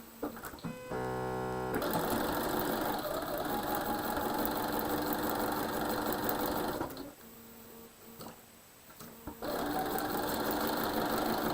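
Sewing machine running a quarter-inch seam in quilt piecing, a steady close whir for about seven seconds, a brief pause, then stitching again.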